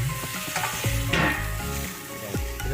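Tomatoes hit a hot frying pan with a loud, close sizzle, while a utensil scrapes and clinks through several quick stirring strokes.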